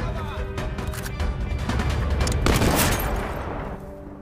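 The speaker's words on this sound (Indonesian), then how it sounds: "Melihat itu, Scud langsung menembak cermin tersebut." Sniper rifle fire and crashing impacts from a war film, a loud burst of sharp cracks and shattering glass from a mirror, dense and layered, with no voices.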